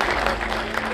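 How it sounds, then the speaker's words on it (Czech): Brief burst of audience applause at a talk at the Lipno treetop walkway on Šumava, a dense, steady wash of many hands clapping throughout. "Zatleskejte si určitě"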